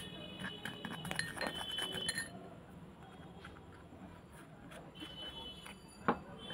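A spoon clinks lightly against a bowl while toothpaste is stirred into a paste, with soft scraping between a few small metallic taps and one brighter clink near the end, fairly faint and close.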